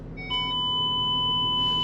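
A continuous electronic tone from the front parking sensor of a Range Rover Sport L320 starts abruptly and holds steady, high and clear over a low engine idle.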